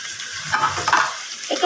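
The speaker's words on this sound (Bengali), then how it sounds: "একটু ভালো করে নেড়ে চেড়ে দিচ্ছি যাতে মশলার সাথে মাংসটা মিশে যায়।" Fried meat, potatoes and spices are stirred in a pan with a soft sizzle and scraping strokes, close and fairly clear for a brief moment.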